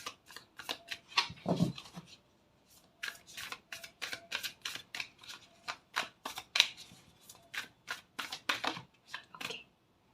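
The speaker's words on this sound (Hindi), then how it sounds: "कार्ड्स हाथ में लेते ही शफल कर रही थी ना" Tarot cards shuffled by hand, close and clear, in quick papery riffling bursts that run in two stretches with a short pause between them, no voices.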